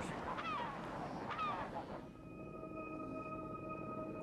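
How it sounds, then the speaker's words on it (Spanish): A flock of gulls calls near a ringed seal colony, a few honking cries close together in the first two seconds before fading to a quiet, steady background hum. "Las bandadas de gaviotas encuentran suculenta carroña cerca de una colonia de focas de anillo."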